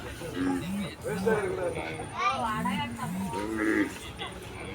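Native-breed cattle low and moo repeatedly, several overlapping calls close by, with other animal sounds and background activity throughout.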